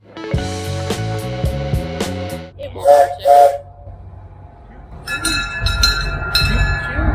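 A small tourist train in an Arizona gold-mining town rolls along with a rhythmic clatter, then two sharp whistle blasts sound, followed by hissing steam and ringing bells.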